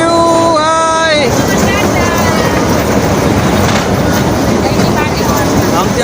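A small toy train at Gandhinagar's Garden 28 pulls into its station with a brief tonal whistle at the start, then a steady, close rumble and clatter throughout, with people talking over it.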